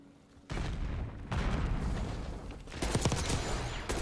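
Gunfire in the video game Black Ops comes in dense bursts of rapid shots and booms, loud and continuous over about three and a half seconds, with no talk.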